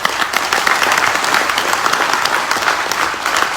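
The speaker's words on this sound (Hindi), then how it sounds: "जोरदार ताली" At a stage event, a large crowd claps loudly and continuously, a dense, steady wash of applause with no talking over it.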